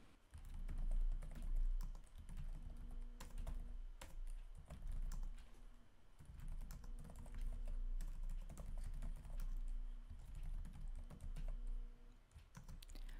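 Steady, close keyboard typing for data entry in an Excel spreadsheet, with rapid clustered keystrokes continuing throughout and no talking.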